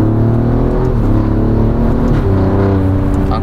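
An Alfa Romeo Giulia Quadrifoglio engine runs loud and close, holding a steady throaty drone with slight rises and dips in pitch.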